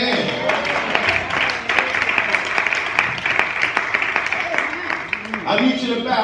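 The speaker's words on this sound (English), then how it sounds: "you ought to clap your hands." Church congregation clapping their hands during a sermon, a sustained crowd of claps with a steady rhythmic patter underneath, and voices mixed in throughout.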